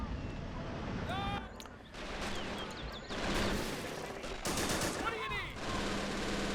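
Gunfire from a World War II battle in Men of War: Assault Squad 2 with the RobZ Realism mod: faint, distant bursts of rifle and machine-gun fire crackle in clusters over a busy battlefield background.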